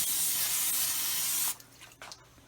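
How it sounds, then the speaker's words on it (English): A can of cooking spray hisses loudly and steadily onto a breakfast skillet for about a second and a half, then cuts off, leaving a few faint clinks and handling sounds. "we're gonna spray this skillet down"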